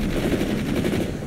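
A machine gun fires in a war video game, a fast, continuous, loud burst of rapid shots.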